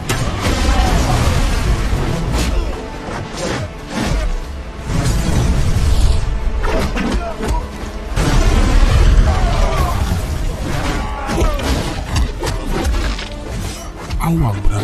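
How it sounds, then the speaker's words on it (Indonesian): A pile of dynamite is shot and explodes in an action film scene, giving loud, dense booms, crashes and bursts that rise and fall over several seconds, with a voice talking over much of the din. "penyerangan dimulai saat Awang menembak tumpukan dinamit yang ada di sana"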